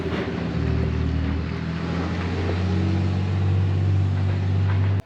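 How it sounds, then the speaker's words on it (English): A GMC CCKW truck drives away with a loud, steady engine rumble and low droning harmonics that hold evenly for about five seconds before cutting off abruptly. "And then, the truck is on its way to its new home."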